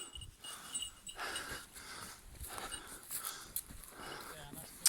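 Dogs being walked outdoors, with panting, shuffling paws and movement sounds close by while people talk over them throughout.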